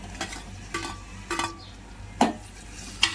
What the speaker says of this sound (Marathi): टोमॅटो परतून घेऊया।